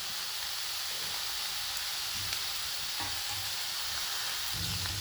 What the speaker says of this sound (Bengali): সমস্ত সবজি দিয়ে আমি খুব ভালোভাবে ভেজে নেব।